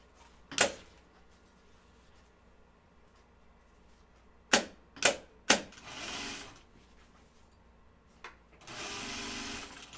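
A domestic sewing machine stitching ribbon onto fabric edge, heard in short sharp bursts: one brief run, then three quick pulses, followed by a longer steady whirring stretch, fairly quiet with pauses between.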